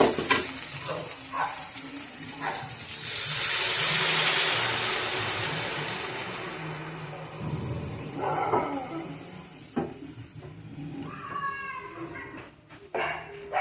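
Water poured into a pan of frying potatoes, onion stalks and spices bursts into a loud hissing sizzle that swells and slowly fades, followed by stirring and clattering sounds, with no talking.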